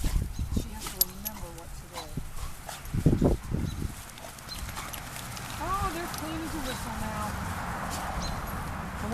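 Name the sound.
Labrador puppy whimpering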